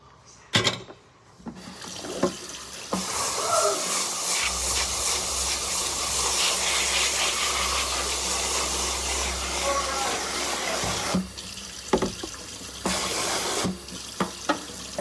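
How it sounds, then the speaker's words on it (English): Tap water rushes steadily into a pot as rice is rinsed with soap and water, running continuously for several seconds before cutting off into a few short splashes and clatters, with a brief voice in places. "Now we're gonna wash this rice."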